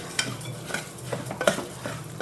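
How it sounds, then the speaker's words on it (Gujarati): Broken wheat (fada) sautéing in ghee in a cooker pan, a soft sizzle under repeated scraping stirs and small metal clinks of a spoon, close and quiet. "આ જે ફાડા છે એને સાંતળી લઈશું."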